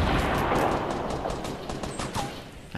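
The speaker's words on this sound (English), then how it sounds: "I hate the sound of those RPGs" Explosive weapon fire in a Fortnite match, with repeated sharp bursts and blasts over a dense, noisy battle din, loud at first and then slightly receding.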